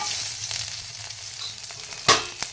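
Green chillies fry in hot oil with curry leaves, giving a steady hissing sizzle, followed by a sharp clatter near the end and a smaller knock after it.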